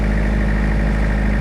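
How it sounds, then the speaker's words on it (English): A car engine running and warming up in Arctic cold, a loud steady idle drone that holds unchanged throughout. "the car going and the engine starts to warm up"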